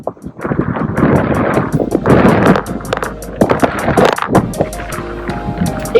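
Strong gusting wind buffeting the microphone at a fishing pond bank, loud rumbling blasts rising and falling in waves with sharp crackles throughout, no talking.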